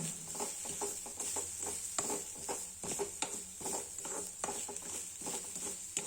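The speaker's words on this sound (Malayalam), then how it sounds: "മല്ലിയും തേങ്ങയും അതുപോലെ തന്നെ വെളുത്തുള്ളിയൊക്കെ നന്നായിട്ടൊന്ന് വറുത്തെടുക്കുക" Coriander, coconut and garlic roast in a pan for a chicken curry, a close, busy patter of crackles and light stirring scrapes, steady throughout with no talking.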